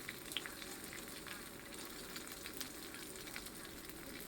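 Thai cha-om omelette frying in a pan over lowered heat, a soft steady sizzle with faint crackles and light stirring, quiet and close.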